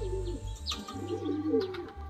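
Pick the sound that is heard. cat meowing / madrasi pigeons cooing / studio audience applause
madrasi pigeons cooing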